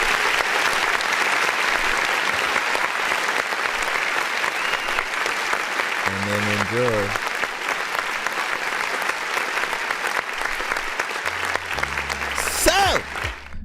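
A clap sound effect played during a live online music review show: broadband applause runs steadily through most of the stretch, fairly loud and continuous, with a host talking over it and brief musical sound-effect tones near the middle and end.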